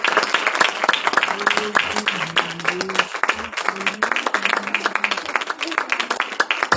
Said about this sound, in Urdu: زوردار تالیوں۔